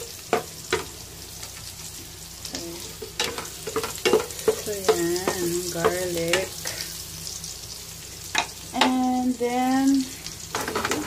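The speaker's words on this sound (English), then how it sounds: "add the garlic" Garlic frying in a pan gives a steady sizzle beneath repeated scraping and stirring, while a voice speaks briefly over the cooking sounds at close range.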